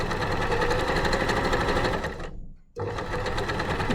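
A sewing machine runs fast along a long seam in a basic dress skirt, a steady, close mechanical whir that briefly stops, then starts again and carries on stitching.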